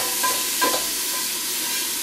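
Lean bison meat sizzling as it hits a hot pan, a bright continuous frying hiss with a few faint stirring scrapes, close and alone.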